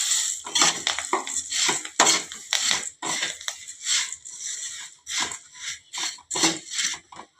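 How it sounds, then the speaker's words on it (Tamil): A spatula stirs puffed rice with turmeric masala in a metal pan, making brisk, rhythmic scraping and clattering strokes that repeat steadily, close and fairly loud, with no voices. "இப்போ பொரியை போட்டு நல்லா கிண்டணும்."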